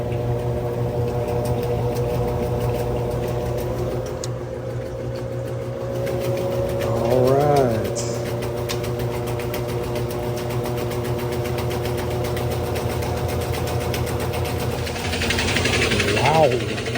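A GE washing machine spins fast after a gearcase WH03X33729 replacement. Its loud, steady motor hum carries a layered harmonic whine, with a couple of brief rising-and-falling pitch sweeps as the drum runs.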